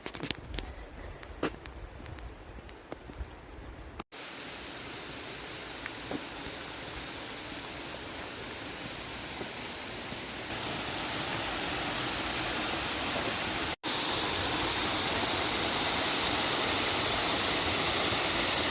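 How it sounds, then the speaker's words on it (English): A waterfall in Olympic National Park on a cold day roars as a continuous broadband rush, quieter at first and then steady and loud as it is approached, with no talk over it. "Walk to that waterfall, and it is beautiful."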